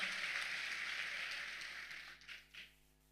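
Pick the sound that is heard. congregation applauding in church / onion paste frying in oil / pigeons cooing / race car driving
congregation applauding in church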